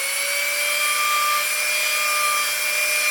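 A rotary tool with a stone bit sanding EVA foam, a steady high-pitched whine and grinding hiss that runs unbroken and loud throughout, with no talk.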